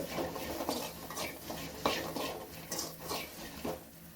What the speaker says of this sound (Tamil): கொஞ்சம் பொன்னிறமாக வர்ற வரைக்கும் நம்ம வந்து தேங்காயை வதக்கி எடுத்துக்கலாம்